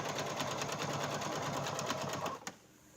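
A sewing machine stitches bag fabric in a fast, even mechanical whir with rapid needle ticking, close and steady, then stops abruptly near the end.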